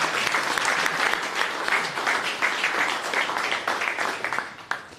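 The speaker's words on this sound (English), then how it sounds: "I think a massive round of applause," An audience applauds warmly for five seconds, a dense and steady patter of many hands at moderate distance that tapers slightly at the end.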